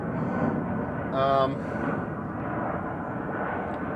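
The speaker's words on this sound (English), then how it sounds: "Southwest Airlines flying over" A Southwest Airlines airliner flies overhead outdoors near a shed, a steady broad jet rumble droning throughout with a brief brighter swell in the middle.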